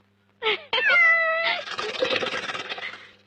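A cat meows loudly and close by, one short call followed by a longer drawn-out meow that trails into a rough, noisy cry.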